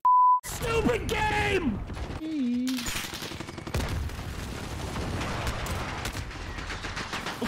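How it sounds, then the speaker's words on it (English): LMG hip-fire in the Call of Duty Modern Warfare video game: a dense, continuous burst of rapid gunfire with in-game beeps and effects, and a voice partly audible underneath. "Just hip fires an LMG after getting blasted"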